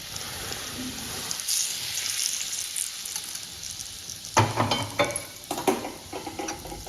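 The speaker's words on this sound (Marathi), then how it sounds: "तेल आपलं एकदम कडकडीत झालेलं आहे तेल सगळं या पिठावरती वतायचं" Very hot oil poured over flour for savoury Diwali shankarpali dough sets off a crackling sizzle, soft at first and then sharper bursts near the end, with a scrape of stirring.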